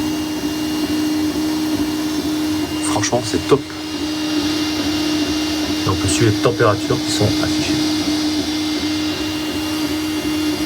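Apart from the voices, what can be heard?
3D printer working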